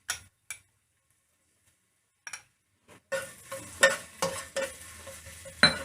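Ginger paste fries in a karahi as it browns. Scattered clicks and near-silence give way to a sudden close sizzle with repeated stirring scrapes.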